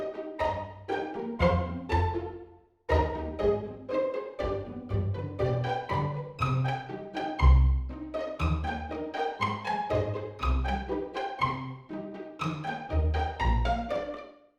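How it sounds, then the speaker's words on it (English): An orchestral string section plays a short 8-bar pizzicato ditty of rapid plucked notes with bouncy rhythmic bass plucks beneath. The passage is clear and close, with no talk over it. "a rubbish little 8-bar pizzicato ditty"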